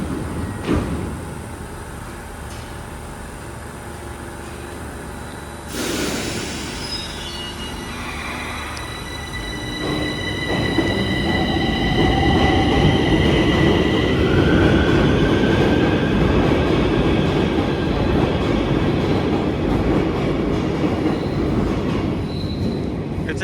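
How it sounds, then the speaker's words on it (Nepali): An underground metro train rumbles in at a station in Romania and runs steadily, its wheels squealing and whining at high pitch, with a brief thump of doors early on. "यहाँ चाहिँ अन्डरग्राउन्ड मेट्रो चाहिँ 8-8 मिनटको अन्तरालमा हिँडिरहेको हुन्छ।"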